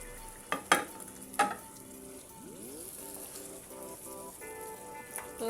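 Tomato goes into spicy masala frying in oil for a palak chicken curry, with a few sharp clatters and stirring knocks over a low, continuous sizzle that briefly swells near the end.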